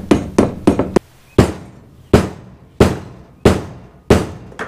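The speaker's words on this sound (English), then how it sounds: "I'm gonna take this big old socket and just lightly tap it in" A big socket taps a fork seal into a Honda CB500 Four front fork, giving sharp metallic knocks: a quick cluster of four taps, then five evenly spaced, firmer single hits, close and loud.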